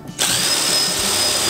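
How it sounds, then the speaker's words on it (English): Cordless power drill whirring to drive screws tight during a window install on a bus being converted into a tiny house, a short close burst starting abruptly and holding a steady motor whine. "I'll see which screws aren't tightened down all the way and tighten those down."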